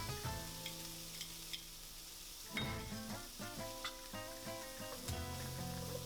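Chopped garlic and shallot sizzle steadily in hot olive oil for a seafood paella, a loud close crackle with occasional stirring clicks and scrapes, no voices.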